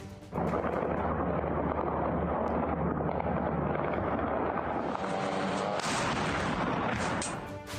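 Artillery guns firing at the front line in Ukraine, a dense, continuous roar of heavy booms and rumbling blasts that runs loud and unbroken for several seconds, with no voices over it.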